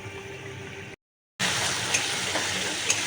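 Water boiling off in a pan as a curry cooks down, a steady close broadband sizzle and bubbling that cuts out for a moment, then returns with small pops and crackles.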